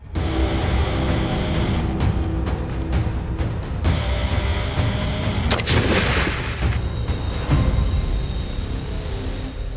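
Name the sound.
weapon firing during military exercise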